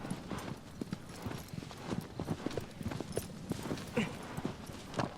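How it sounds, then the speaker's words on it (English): A horse's hooves clip-clop in a steady, even rhythm throughout in the Shadow of the Colossus video game, moderately loud and heard alone, with a faint neigh mixed in. "Alright, stop, you silly horse."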